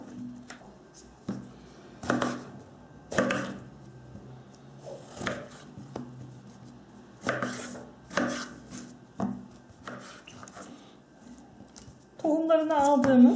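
A knife chops zucchini into long pieces on a board for a chicken and vegetable stew, with about a dozen crisp, fairly even strikes close up. A brief clatter comes near the end.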